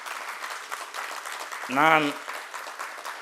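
An audience claps at the Kashi Tamil Sangamam event, a continuous patter of applause with a voice speaking briefly over it midway.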